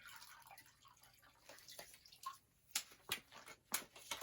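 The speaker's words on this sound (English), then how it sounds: "wring it out" Water dripping and trickling from a freshly wrung-out Norwex mop, a faint steady patter at first, then a few louder, distinct splashes close by, with no one talking.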